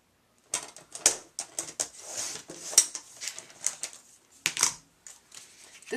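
Paper for a handmade stamped card is trimmed with a series of close, sharp clicks and slicing strokes, irregular in rhythm, with light handling noise between cuts.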